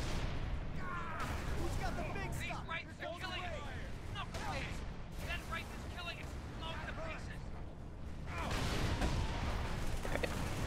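Tank cannon shells fire and explode in the Halo 3: ODST video game, giving heavy, rumbling booms under near-constant talk from several players, with the loudest blast near the end.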